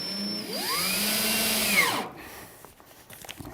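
A power drill drives a screw into the plywood bottom of a tool chest, its motor whine rising and then falling over about two seconds before cutting off into quiet shop noise.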